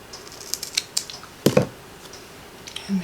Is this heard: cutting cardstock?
yes